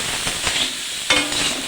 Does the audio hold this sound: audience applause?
no